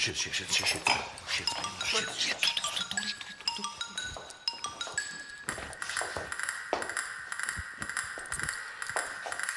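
A doorbell chimes in a home, its ringing pings and clinking tones standing out clearly among household clatter and close talk.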